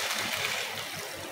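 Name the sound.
water being poured into potato filling in a pan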